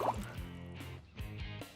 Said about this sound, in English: I could make a fizzy drink by just blowing bubbles in this water.